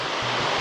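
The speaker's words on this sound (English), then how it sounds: "That cascade of water there is stunning" A cascading waterfall in Bali roars as a loud, dense, unbroken rush of water, heard up close and alone.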